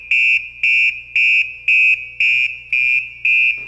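PASS device on a firefighter's breathing apparatus sounding its motionless-wearer alarm: loud, piercing electronic tone blasts repeating in an even rhythm, seven pulses close up with no talk.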